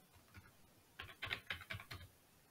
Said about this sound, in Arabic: راح اكتب جيت كونتنت